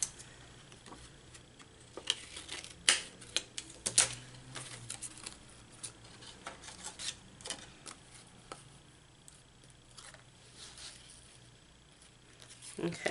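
Scissors cut paper for a spring-themed journal cover, making a run of crisp snips and rustles that are close but faint and irregular. Quiet talk can be heard alongside the cutting.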